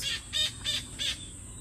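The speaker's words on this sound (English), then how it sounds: "It's a King Parrot paradise." King Parrots calling, four short, evenly spaced high chirps at moderate distance, with a quiet background and no talk.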